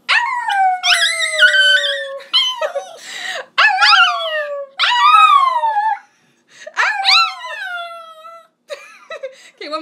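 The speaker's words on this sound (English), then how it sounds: "That is my dog singing." A dog howls in a series of long, wavering, falling cries with short gaps between them, loud and close.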